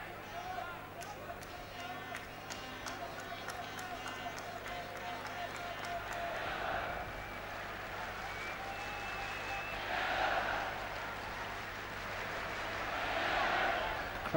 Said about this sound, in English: Crowd, if anything, which seems to have grown a bit since the game started, trying to get behind England a little bit now